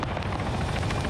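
A helicopter flies nearby in a military video game, its dense rotor thump pulsing rapidly and loudly throughout, with no talk.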